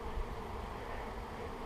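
A swarm of honey bees from a package being hived buzzes densely and continuously close by, a steady droning hum filling the short moment.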